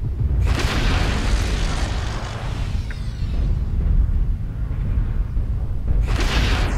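PPC weapon fire and explosions in the MechWarrior Online video game: loud, continuous booming blasts and rumbling impacts, with bright bursts near the start and end of the stretch.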